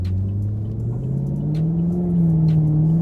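A 2018 Chevrolet Camaro SS engine revs up steadily, its low growl rising in pitch as it accelerates, heard from inside the cabin with no talking.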